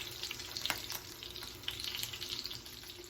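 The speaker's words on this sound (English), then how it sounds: "until all the meatballs are slightly fried and golden brown" Meatballs fry in a pan with a steady, soft sizzle and faint spitting crackles, with a few light clinks mixed in, heard close and fairly quiet without speech.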